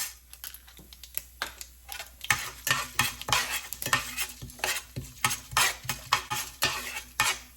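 Chana dal fries in sesame oil in a kadai while being stirred, giving a rhythmic series of close scraping, clinking strokes over a soft sizzle.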